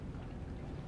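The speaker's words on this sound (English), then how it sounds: "Obviously raining." Steady rainfall in the video game Detroit: Become Human hisses evenly throughout, a dense wash of drops with no voices and no breaks.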